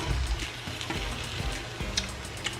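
Sweet corn, carrots, green beans and peas sizzle in a pan at low volume, with soft crackles and a few stirring clatters over a brief stretch.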